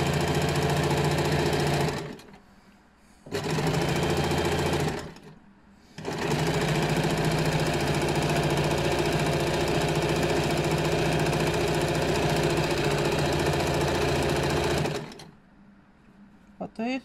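A sewing machine stitches a straight seam in linen clothing, running in steady loud bursts of mechanical whirring with two short pauses early on and a stop near the end.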